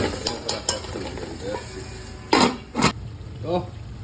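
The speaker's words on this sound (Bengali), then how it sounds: "আমি দিলাম চিকেন তেলের মধ্যে" Chicken pieces fry in hot oil for alu chicken, a steady sizzle under a person talking, with sharp clanks of a utensil against the pan near the end.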